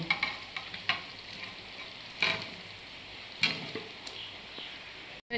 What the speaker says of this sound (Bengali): ভেজে রাখা চিকেনগুলো এবার আমি সব এর মধ্যে দিয়ে দেব।